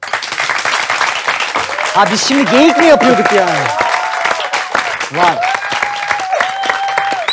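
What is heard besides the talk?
audience applause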